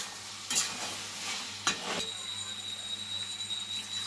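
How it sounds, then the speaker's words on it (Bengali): Dried fish with masala stir-frying in a pan, a soft sizzle with two brief scraping stirs over a low steady hum. "এবারে শুটকি মাছ দিয়ে আমি মশলাটা ভালো করে কষিয়ে নেব"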